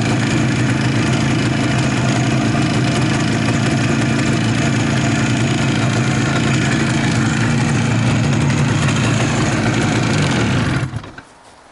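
An IZh motorcycle engine idles after starting, a loud, close, steady mid-low chugging that runs evenly for about eleven seconds, then cuts off abruptly.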